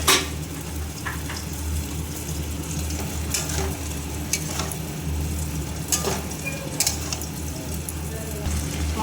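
Fried prawns, pointed gourd and potato stirred into a spice paste with turmeric and Kashmiri chilli, giving a steady, close frying sizzle with scattered scraping stir clicks throughout.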